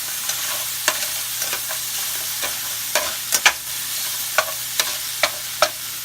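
Pork stir fry with crushed red pepper sizzling in a pan, a steady frying hiss punctuated by repeated sharp scrapes and clacks of stirring, close and alone.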